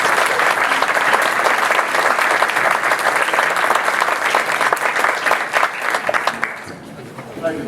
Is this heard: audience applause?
yes